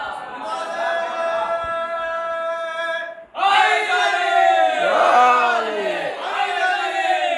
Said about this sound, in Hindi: सलावत पढ़े मोहम्मद वाले मोहम्मद पर।